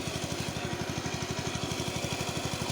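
A tractor engine ploughing a field chugs close by in a steady, rapid low-pitched pulse that runs evenly and loud throughout, with no talk over it.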